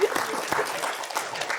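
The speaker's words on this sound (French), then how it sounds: "je pense qu'on peut déjà vous applaudir" Studio audience applauding on a French television talk show set, a short burst of steady clapping that fills the clip at moderate loudness.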